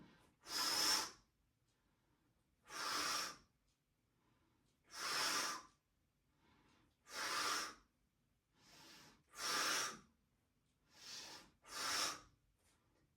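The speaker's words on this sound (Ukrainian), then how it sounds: "Дихання бодіфлекс. Видих." Bodyflex breathing exercise done in a leg-extension workout: seven forceful, breathy exhalations in a steady rhythm, each about a second long with brief quiet gaps between them, close and fairly loud.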